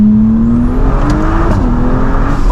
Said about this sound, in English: We got a pop that time on the upshift.